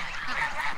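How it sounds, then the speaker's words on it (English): Grown geese honk together in a brief, dense, raspy burst of overlapping calls, close and loud. "The geese have grown up."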